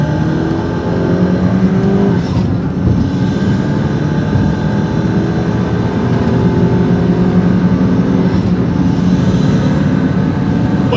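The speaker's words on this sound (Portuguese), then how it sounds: "O barulhinho da turbina enchendo é uma delícia." A 2015 Fiat 500 Abarth accelerates hard through town, its engine note rising steadily and loud from start to finish, with the turbo building boost as it pulls, up close and steady with no talk.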